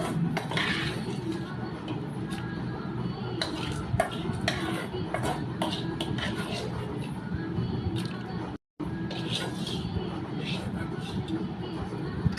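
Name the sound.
adding tempering into cooked dal and stirring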